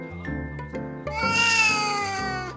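Bidan the cat meows in a sung, melodic series of drawn-out calls at close range, the notes rising and stretching as if singing along with a tune, with no talking.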